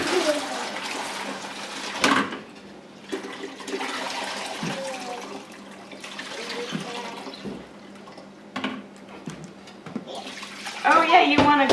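Whey drains from cheddar curds into a two-gallon pot in a continuous trickling, splashing pour of moderate loudness, with a few knocks and a brief voice partway through.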